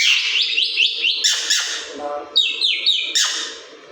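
A pet myna bird calls in a rapid series of bright chirps, whistles and squawky notes, close and loud, filling the moment with varied rising and falling tones.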